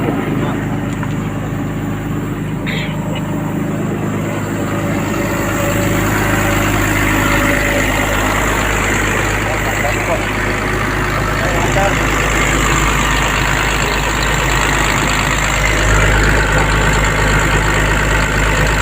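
A Komatsu PC200-8 excavator's diesel engine runs loudly and continuously with a deep, steady drone and slight surging in level, while a voice talks over it at times.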